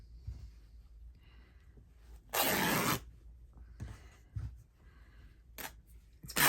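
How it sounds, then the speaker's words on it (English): Cotton fabric is torn by hand from a small snipped edge, making one loud, harsh ripping burst of about half a second, followed by fainter rustles and a couple of short tearing snaps nearby. "I'm going to put 2 snips, and that way I can rip it"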